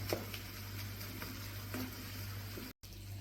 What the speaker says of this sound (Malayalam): ഇത് നല്ലപോലെ ഒന്ന് തിളക്കട്ടെ